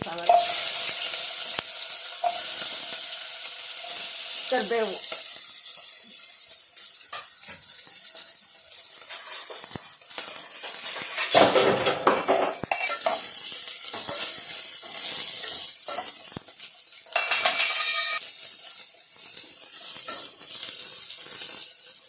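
Mustard seeds, cumin, onion, curry leaves and crushed garlic crackle in hot oil for a sambar tempering, a steady sizzle with stirring and a brief burst of running tap water, no talk.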